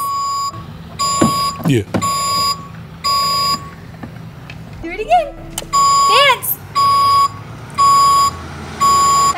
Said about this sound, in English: The best dump truck music I've ever heard.